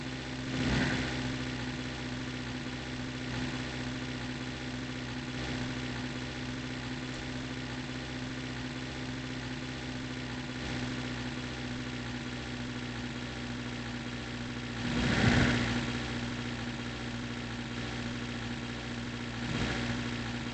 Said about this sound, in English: Car seems to be making funny noises.